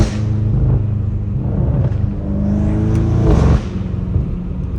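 A catless BMW M5 Competition accelerates on a street, its engine note rumbling loud and close, rising in pitch through a sustained pull, dropping briefly, then surging again before easing off.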